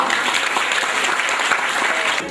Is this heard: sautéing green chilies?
no